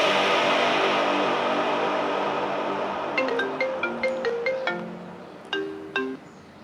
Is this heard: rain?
no